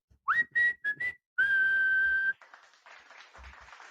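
Someone whistles a few short notes and then holds one long steady tone, followed by faint background noise.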